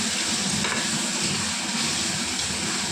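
Chopped bottle gourd with salt and turmeric is stirred in a hot pan, giving off a steady, close sizzle and hiss with soft scraping mixed in.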